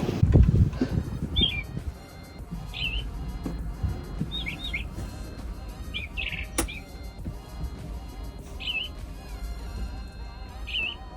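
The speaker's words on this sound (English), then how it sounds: "We also thought we had a bird stuck in the bathroom somewhere." Short bird chirps repeating at a steady pace, seemingly coming from inside an RV bathroom in Roswell, New Mexico, faint and somewhat muffled over low background rumble.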